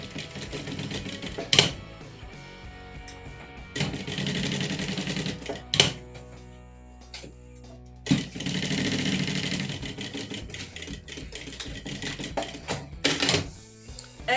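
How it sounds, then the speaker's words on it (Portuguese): A sewing machine runs a seam close to the edge along a zipper on a small toiletry bag, in several rapid whirring bursts with short pauses and clicks between them. "vou fazer aqui uma costura à beirinha"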